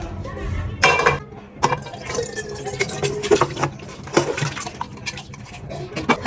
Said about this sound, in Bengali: এখন আমি মাংসটা চুলা থেকে নামিয়ে অন্যটা হাঁড়িতে ঢেলে নিচ্ছি।